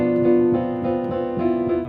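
Piano broken eighth notes built on B, a tense, dissonant pattern of repeated struck notes in a steady pulse, sustained tones ringing together, played alone and close.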